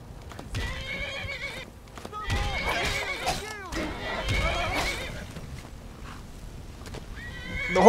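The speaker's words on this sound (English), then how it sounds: "The horse is on fire again." Horse in the Skyrim video game whinnying repeatedly in loud, shrill bursts with hoof clip-clops, close and prominent, with a person talking between the calls.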